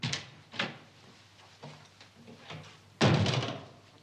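A train door slams shut with a loud, close thud at a station platform where an express to Hamburg via Husum is boarding, following softer earlier knocks and bumps.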